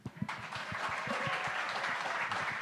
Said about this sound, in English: Let's clap so loud that Trent can hear it.